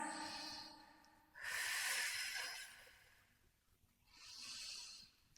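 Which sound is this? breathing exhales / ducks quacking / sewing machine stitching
breathing exhales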